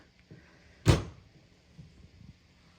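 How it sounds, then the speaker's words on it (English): A single solid thump of a door shutting nearby, followed by faint shuffling in a quiet room. "So I'm gonna close the door to that."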